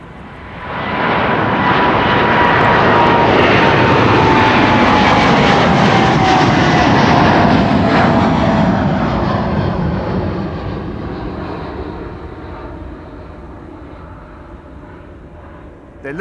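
Airliner departing from Amsterdam Schiphol airport on a sunny day, a loud roaring jet engine swelling as it passes, then fading into a distant rumble, with people talking over it.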